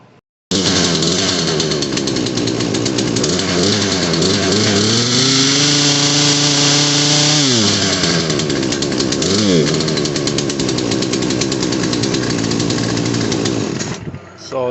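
A Poulan Pro PR4218 chainsaw engine under repair is started and run loud and close, bogging and straining as the throttle is pushed fully open, with the pitch sagging and wavering before it cuts off.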